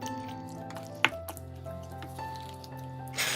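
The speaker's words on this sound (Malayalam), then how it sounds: "ഇനി ഇതിലേക്ക് 250 ml കപ്പിന് 1/2 കപ്പ് വെള്ളം ഒഴിച്ചു കൊടുക്കുക." Half a cup of water poured into chicken cooking in a pot, a brief splash and trickle of liquid over a soft background simmer and hum, close and fairly quiet.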